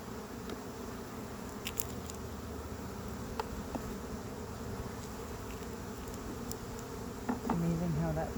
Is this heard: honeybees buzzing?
yes